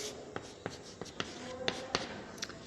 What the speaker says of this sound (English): We will write 4 here and 4 here.